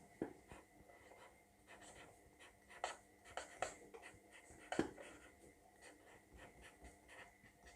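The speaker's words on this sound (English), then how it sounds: "So I'm going to write something." A pen scratches across paper at close range while a child's craft medal is made, in short soft strokes and scribbles with small taps, faint and alone.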